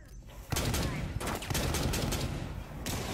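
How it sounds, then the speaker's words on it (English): A frag grenade blows up in Rainbow Six Siege, loud bursts of explosive noise arriving in several sharp onsets, with a rumbling blast and crackling debris that trail off between hits. "Throwing frag grenade"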